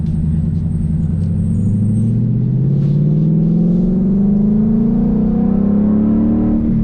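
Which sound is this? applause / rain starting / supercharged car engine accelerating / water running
supercharged car engine accelerating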